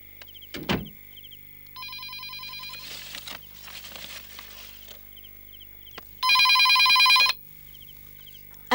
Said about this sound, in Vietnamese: Chị đi nghe điện thoại đi.